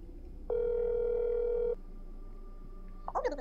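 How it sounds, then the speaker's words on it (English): A phone call tone in the horror game That's Not My Neighbour: a steady electronic tone holds for about a second, then a thinner tone lingers before a brief burst of sound at the end. "I can call and ask Orcus if she's home"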